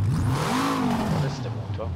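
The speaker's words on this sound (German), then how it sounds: "Hören wir uns erstmal den Motor an." Renault 5 Turbo 1 Group B rally car engine in a racing video game, revving steadily with a rising and falling whine, close and continuous throughout.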